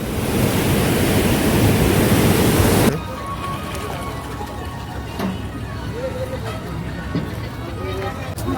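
Broadband roaring rush of water pouring through the Teesta Barrage, loud and steady for about three seconds before dropping to a quieter, distant wash with faint scattered sounds.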